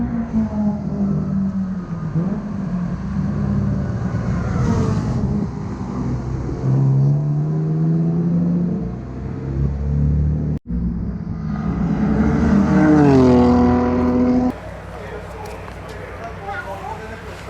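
Audi A5 3.0 TDI quattro driving on the Donington Park circuit, a steady engine drone that rises and falls in pitch through gear changes and acceleration, heard from inside the car under nearly continuous talk.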